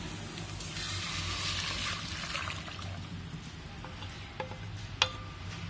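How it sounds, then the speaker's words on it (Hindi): Tomato puree pours into a pan of lightly softened onions for tomato soup, a steady wet slurry sound lasting several seconds, followed by a few small clinks of a utensil against the pan. "अब हम इसमें डाल देते हैं अपनी ये प्योरी"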